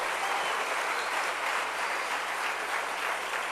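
A congregation gives a sustained round of applause for the king, steady dense clapping with no pauses from start to finish and only faint voices underneath.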